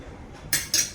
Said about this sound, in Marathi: आणि झाकण लावूया